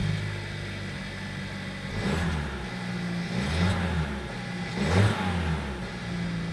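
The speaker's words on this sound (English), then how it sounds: "two cheeky exhaust pipes, which, if I'm honest, don't really make a fantastic noise" A 2018 Suzuki Swift Sport's engine revs through its twin exhaust pipes, several rising blips over a steady idle, heard close and fairly loud with no talking.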